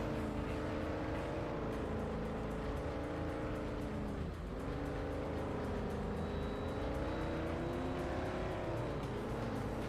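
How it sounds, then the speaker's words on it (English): A car engine drones continuously in a PS2 racing video game, loud and sustained, with the revs dipping briefly mid-clip and climbing again. "I love how his engine in my ears is way louder than mine"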